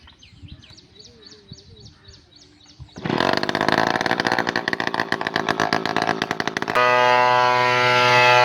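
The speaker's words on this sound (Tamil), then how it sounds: "வாங்க மிஷினை ஸ்டார்ட் பண்ணிக்கலாம்" Motorized knapsack sprayer engine loaded with a herbicide mix firing up outdoors after a few quiet pulls, then roaring loud and steady at close range with a rising pitch, with birds chirping before it catches.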